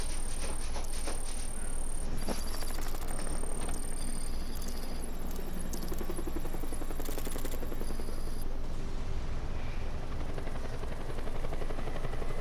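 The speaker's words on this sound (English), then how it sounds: "Wait, what's with the helicopter?" A helicopter in Batman: Arkham Knight, its rotor chopping loud and continuous throughout, mixed with dense game effects and whirring layers.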